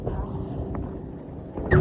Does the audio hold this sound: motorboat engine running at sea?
yes